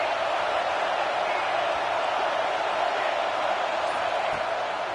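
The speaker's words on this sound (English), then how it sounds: "Decibels rising as the crowd gets behind this defense on third down" A football stadium crowd at an Oklahoma game roars on third down, a dense, steady wall of noise filling the space, with speech faintly present underneath.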